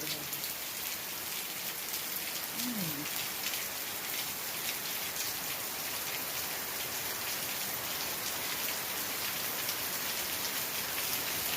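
Steady, dense monsoon rainfall patters down continuously over a peanut field, a broad hiss of drops on surfaces with no talking.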